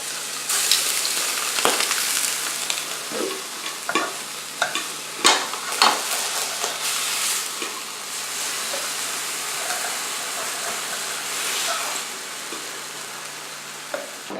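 Chicken tossed with adobo marinade in a hot pan for tacos: steady frying sizzle under repeated scraping and stirring strokes, with sharper clatters of the utensil against the pan in the first half.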